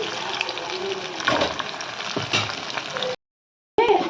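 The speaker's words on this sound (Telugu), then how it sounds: "సో నేను ఇప్పుడే వీటిని కొంచెం మిక్స్ చేస్తున్నాను." Chicken pakoda being stirred while it fries in a pan gives a steady, close sizzle with scraping movement, broken by a brief silent gap before the sizzling resumes.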